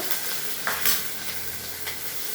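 Curry leaves and green chillies sizzle in hot oil in a pan, a steady close frying hiss with a few brief stirring scrapes and spits, cooked as the base for Chitradurga-style avalakki.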